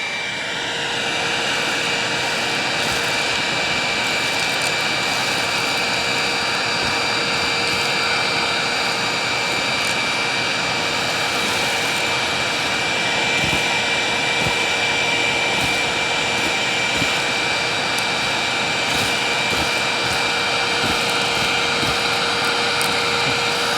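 A purple Hoover WindTunnel Plus self-propelled upright vacuum cleaner runs steadily and loud for the whole stretch, a constant high motor whine and airy roar with no pauses and no talking.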